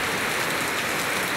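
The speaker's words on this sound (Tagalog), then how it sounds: "Ang lakas ng ulan." Heavy rain pouring down, a dense, loud, unbroken hiss of drops with no pauses, close and alone.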